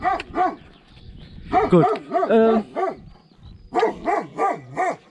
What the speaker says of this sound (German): Lassen wir den Köter mal eben bellen.